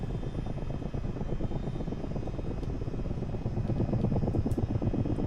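A CH-47 Chinook helicopter in Microsoft Flight Simulator drones steadily with a loud engine roar and a fast, chopping rotor pulse throughout, close and continuous with no voices.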